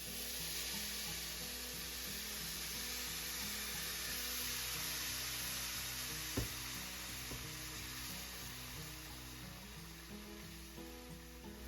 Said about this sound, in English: I'm just going to add the rest of the beef stock to pick those bits up and deglaze this pan